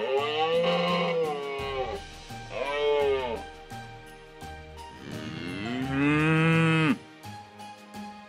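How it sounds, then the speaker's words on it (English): A cow moos three times up close, with two shorter calls followed by a longer, louder drawn-out low bellow, separated by brief quiet gaps. "And the next we have is the beautiful cow."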